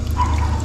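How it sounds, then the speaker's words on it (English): Water runs from a kitchen tap in an Airstream trailer, a steady soft rush of flowing water with no voices. "Okay, so we let the water run for a while."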